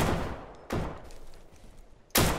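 Gunfire from the Deadside video game: three sharp, loud shots or short bursts, each followed by a decaying echo, with a longer gap before the last.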